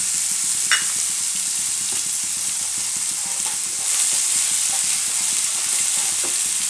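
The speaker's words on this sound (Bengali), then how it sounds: "হ্যাঁ, এবারে আমার এই তেলেতেই আমি এই পেঁয়াজ রসুন বাটাটা দিয়ে দিলাম।" Onion and garlic paste frying in oil in a pan for a village-style Bengali curry: a steady, close sizzle with soft scraping and stirring clicks throughout, no voices.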